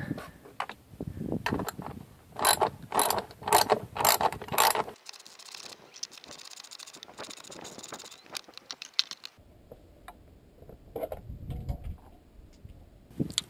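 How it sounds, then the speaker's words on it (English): A ratchet fitted with a 10 mm socket removes the plastic engine cover on a Toyota Matrix. Bursts of rapid clicking come up close, followed by quieter handling clatter and small mechanical ticks. "use a 10 millimeter here on my ratchet to remove that"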